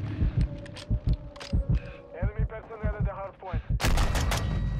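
Rapid bursts of gunfire from the online shooter Warzone 2 during a hardpoint match, a string of loud shots and short volleys mixed with game voices and effects, ending in a dense, noisy burst.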